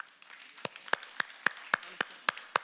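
An audience at a Tamil pattimandram debate held for the Chithirai festival claps, giving about eight sharp, evenly spaced claps in a steady rhythm, fairly soft, with no voices.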